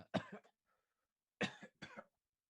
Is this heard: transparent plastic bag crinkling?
no